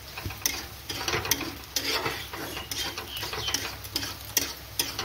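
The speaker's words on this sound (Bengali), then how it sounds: "এবার এটা ভালো করে ভাজবো" Spice masala gravy fries in a pan for paneer chili, a continuous sizzle broken by repeated scraping and clattering stirring strokes of a utensil against the pan at an uneven, busy rhythm.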